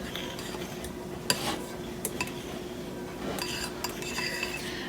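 A utensil scrapes around the sides of a bowl and folds egg-based cloud bread batter, making soft, irregular scraping and clinking strokes over a quiet background.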